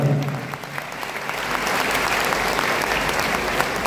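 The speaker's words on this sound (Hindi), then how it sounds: "इनके लिए जोरदार ताली प्लीज प्लीज जोरदार ताली।" A room of people claps loudly for an upline at a gathering, a dense, steady burst of applause holding for a few seconds with no speech over it.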